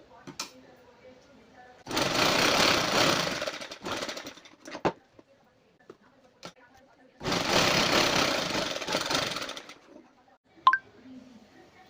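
A sewing machine stitches tucks on the back panel of a side-pleated kurti in two long steady bursts of rapid mechanical whirring, separated by quiet pauses, small clicks and fabric handling.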